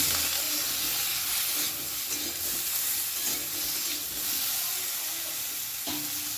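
Mixed vegetables for a vegetarian panchmishali sabzi stir-fry in a pan over high flame with salt and turmeric. A steady, fairly loud sizzle runs throughout, with a few spoon scrapes and clacks against the pan.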